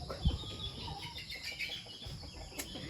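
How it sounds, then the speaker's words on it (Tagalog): Chickens cluck and squawk restlessly close by, short irregular calls scattered across a quiet yard backdrop, with one sharp louder cry near the end. "Magulo na ang mga manok."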